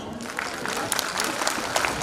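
Audience at a school Grandparents Day event claps in steady applause, a dense, moderately loud patter lasting throughout with a faint murmur of voices.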